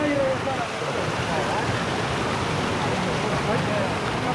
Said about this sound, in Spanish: Miren qué bonita está esta cascadita aquí.